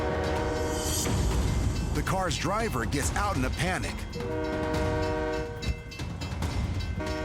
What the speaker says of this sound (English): train approaches.